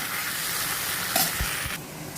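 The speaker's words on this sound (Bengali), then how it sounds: "এখন আলুটা ভাজা হচ্ছে।" Thin-cut potatoes sizzle steadily in hot oil, a close, continuous frying hiss with a few soft stirring knocks near the end.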